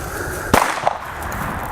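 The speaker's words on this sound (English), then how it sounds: "It's just gunfire." Gunfire during horse training outdoors: two sharp cracks about a third of a second apart, the first louder, against steady background noise.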